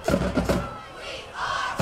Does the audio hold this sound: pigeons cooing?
no